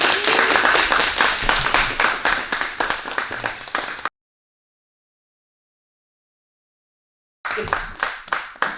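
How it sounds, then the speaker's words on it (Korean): An indoor audience at an independent bookshop book concert claps in steady rhythmic applause for an author, stopping abruptly into silence, then the clapping resumes. "역시 큰 박수와 환호 부탁드립니다."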